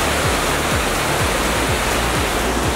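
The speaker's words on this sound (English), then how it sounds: "I think this is the Santa Teresa River, and it's incredible to look at" The Santa Teresa River in Peru rushes along in a loud, steady roar of whitewater, a dense continuous wash of sound that fills the whole moment with no voices.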